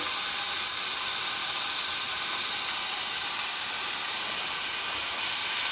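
Butter sizzling in a hot pan with beef and corn, a steady, loud broadband hiss and crackle that holds evenly throughout with no talking.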